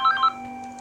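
Telephone ringing at a pizza shop counter near closing time: a short, close electronic ring burst with two quick pulses, then a steady tone fading out.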